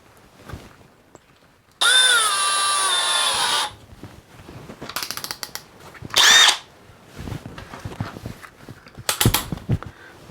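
A Hercules brushless hammer drill in drilling mode, fitted with an adapter, drives a 3.5-inch deck screw. It gives a long, steady whirring burst, then a short burst and a brief final spurt, with handling clatter between them.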